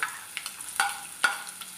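Carrot and potato pieces for semiya upma sizzle in a hot pan, with a few sharp clinks of a spoon stirring them, close and fairly quiet.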